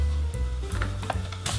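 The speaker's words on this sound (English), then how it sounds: "And again, we'll whisk that up." Whisking a sugar and cinnamon mixture in a bowl for a Latvian-style rhubarb cake, with scraping, stirring and clinking of the whisk against the dish, close and moderately loud, without speech.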